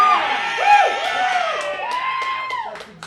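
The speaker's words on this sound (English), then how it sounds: "we want you to cheer a lot for their fighting" Audience at a lively game show cheering, a brief burst of excited whoops and rising yells from several voices, loud and close, fading near the end.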